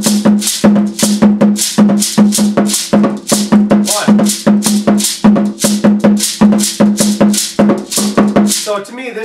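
The traditional double-beat kagan drum pattern is played with the foot under a bright bell, giving a dense, steady, loud percussive rhythm of paired strokes that ends abruptly near the end.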